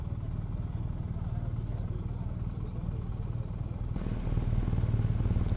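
Motorcycles idle and rumble steadily at a busy Sunday riverside gathering on the Gaia quay, a dense, continuous engine drone that swells slightly louder near the end amid crowd murmur.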